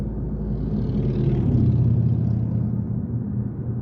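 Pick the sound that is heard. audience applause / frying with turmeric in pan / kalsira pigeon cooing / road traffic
road traffic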